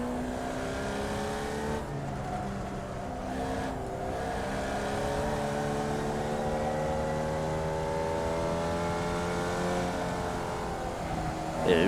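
A race car engine in iRacing revs and holds a high, steady whine as it accelerates, with harmonics sweeping upward and a brief gear shift early on.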